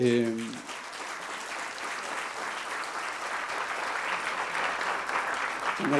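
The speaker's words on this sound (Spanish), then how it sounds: "le quiero pedir un aplauso a Javier Fuentes" An audience at a recycling event claps in sustained, even applause at moderate volume, with a voice briefly heard at the very start and again at the end.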